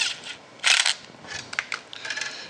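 Small 3/4 inch wood screws shift and clink inside a little bag, giving a few brief rustling, metallic rattles close by with short pauses between them.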